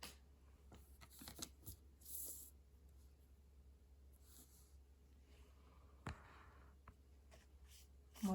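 Tarot cards are shuffled by hand in quiet, soft riffles and slides that come in scattered bursts, with faint breathing and small handling noises between them.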